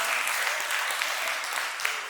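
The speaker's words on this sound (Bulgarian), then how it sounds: "Словен. аплодисменти." Audience at a spring village concert in Yagodovo applauding a children's group, a steady, even wash of many hands clapping with no voices.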